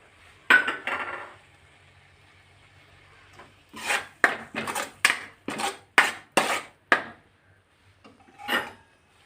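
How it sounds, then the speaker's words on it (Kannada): A utensil scrapes around a pot while mixing the filling for kayi holige: one early rasping stroke, then a brisk run of about eight close, loud scraping strokes and a last one after a pause, with no voices. "ಮಿಕ್ಸ್ ಮಾಡ್ತಾ ಇದ್ದೀನಿ ಎಲ್ಲವನ್ನು"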